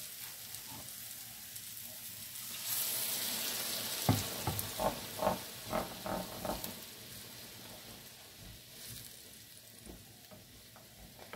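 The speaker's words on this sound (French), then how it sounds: "Puis verser le bouillon, voilà." Broth is poured into a hot pan, setting off a loud burst of sizzling and crackling spurts after a quieter simmer, then settling back to a softer sizzle.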